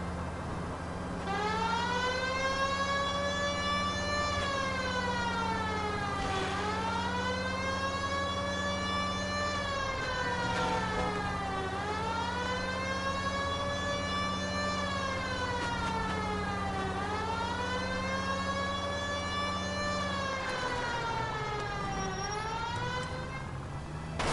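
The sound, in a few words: police car siren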